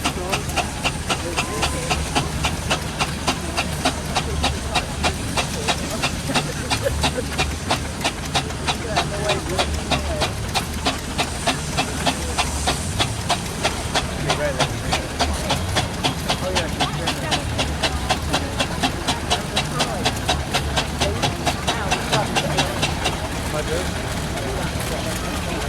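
A steam traction engine built in 1890 by Wallace and Stevens, at a steam fair, gives a continuous hiss with rapid rhythmic puffing throughout, while a voice talks over it.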